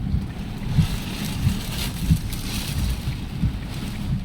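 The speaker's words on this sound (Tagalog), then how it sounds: "malakas yung hangin dito" Strong typhoon wind roaring and buffeting the microphone in gusts among trees in Bicol, a constant low rumble with periodic surges.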